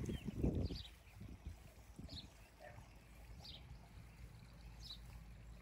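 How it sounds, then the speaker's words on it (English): Faint water from a garden fountain trickles and splashes softly and continuously in the background outdoors, with a few light rustles and no talking. "you can hear the water in the background from the fountain"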